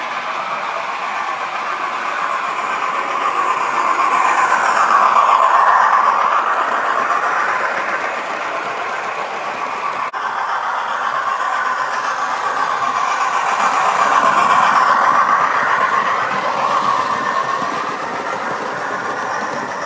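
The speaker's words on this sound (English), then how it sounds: "Gadwall is hauling a rake of Hornby Gresley coaches in the lovely teak livery" Hornby model locomotive Gadwall hauling a rake of Hornby Gresley teak coaches round a model railway layout, a steady continuous running rumble and rail clatter that swells twice as the train passes close, with no talk.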